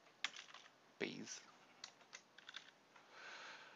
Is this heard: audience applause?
no